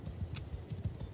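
Horses in the Bannerlord game, with the Warhammer Old Realms setting, clip-clop in a quick uneven rhythm of hoofbeats. The steps are faint and close together, with no voices over them.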